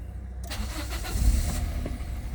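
The engine of a 2008 Toyota Verso, just fitted with a new timing chain, cranks and catches in one go, then settles into a steady idle nearby with no voices.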